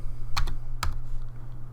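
Two quick keystrokes on a computer keyboard, a letter typed during web coding, close and crisp over a steady low hum, with no talking.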